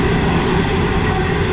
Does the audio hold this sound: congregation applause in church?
no